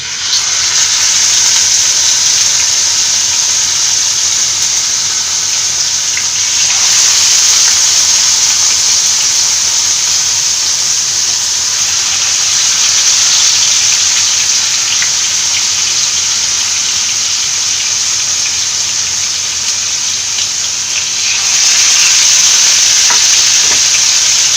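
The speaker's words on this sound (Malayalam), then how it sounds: "എണ്ണ ചൂടായിട്ടുണ്ട്. ഇതിലേക്ക് ഫിഷ് ഇട്ട് കൊടുക്കാം." Fish frying in hot coconut oil in a pan, a Kerala-style fish fry, giving a loud, steady sizzle and hiss that runs without a break, with brief swells as the pieces settle in the oil.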